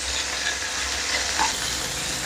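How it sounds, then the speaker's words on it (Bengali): Rohu fish heads fry steadily in hot oil, giving a continuous broadband sizzle with faint stirring scrapes, close and even throughout with no voices. "মাছের মাথাগুলো ভেজে নিচ্ছি।"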